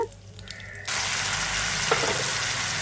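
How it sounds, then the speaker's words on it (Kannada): Mustard seeds, cumin and neem leaves hit hot oil in a pan on a gas stove, bursting into a loud, steady sizzle after a quieter start, with no talking. "ಗ್ಯಾಸ್ ಮೇಲೆ ಬಾಂಡ್ಲಿ ಇಟ್ಟು ಎಣ್ಣೆ ಹಾಕಿ ಸಾಸಿವೆ ಜೀರಿಗೆ ಬೇವಿನ ಸೊಪ್ಪಿನ ಎಲೆ ಹಾಕಿ ಒಗ್ಗರಣೆ ಹಾಕಿ"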